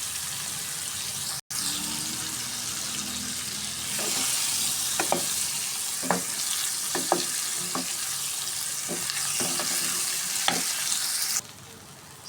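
Goat brain sizzles steadily in a frying pan while being stirred, with scattered scraping clicks of the spoon against the pan over a constant hiss.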